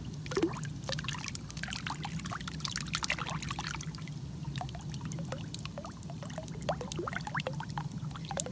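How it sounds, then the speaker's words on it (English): Water splashes and trickles in a jacuzzi, a steady bubbling churn with scattered close drips and splashes throughout, soft and continuous with no talking. "today I will be filming in a jacuzzi so that you can hear some water sounds"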